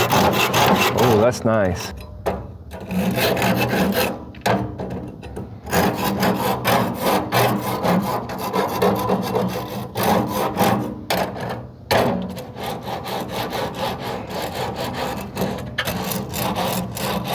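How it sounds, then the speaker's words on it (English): A KP 3-in-1 grill brush scraper is dragged back and forth across grill grates in repeated close, gritty scraping strokes with brief pauses; a voice speaks briefly. "Use that scraper here."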